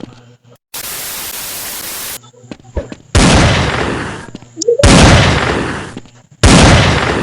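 Harsh bursts of CS:GO gunfire in long, loud stretches, separated by short gaps of quieter background, with a faint voice now and then.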